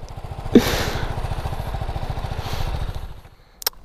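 A 2017 BMW G 310 GS single-cylinder motorcycle runs close by with a steady, rapid chugging pulse, swelling twice in brief throttle blips before dropping away near the end, followed by a sharp click.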